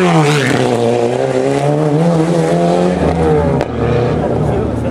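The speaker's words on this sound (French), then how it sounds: "C'est parti pour Laurent Vincent à bord de la Renault Salins-les-Bains avec au volant Patrick Chauvin et la Renault 21 Turbo de 1987" Renault 21 Turbo race car from 1987 roaring off the start line at a historic hill climb, a loud, sustained engine note climbing steadily through the gears with a brief dip near the end.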